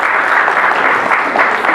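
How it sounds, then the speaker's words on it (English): Audience at a civil society talk applauding, a brief burst of dense, steady clapping from a crowd. "So give yourself a round of applause."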